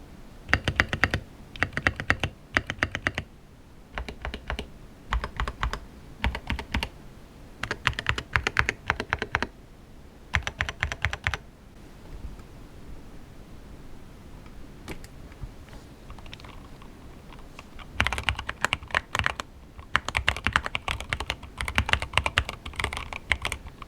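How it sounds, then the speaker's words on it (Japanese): Typing on a modified Ajazz AK680 mechanical keyboard, close and crisp, with rapid clusters of key clacks in bursts separated by brief pauses, continuing steadily throughout with no voices. "それでは打鍵感を確認します。"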